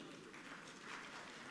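Audience applause at an anniversary celebration event for a daily newspaper, a short burst of dense, even clapping from a crowd that sounds somewhat distant.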